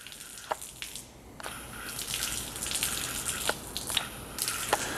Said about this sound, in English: first I'm going to just turn the water on, let the water purge out of it.